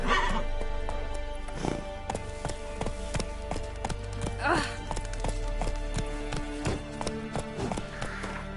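Geralt's horse Roach in the video game The Witcher, with hooves clip-clopping in a steady rhythm and a few whinnies and snorts, all close, against a soft musical backdrop and with a voice talking at times.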